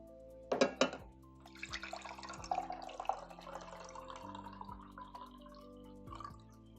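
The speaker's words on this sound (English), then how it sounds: "let me drink some water" Water poured and sipped from a glass at close range, with a few sharp clinks and drips at the start followed by soft liquid sounds and gulps, quiet and alone without talk.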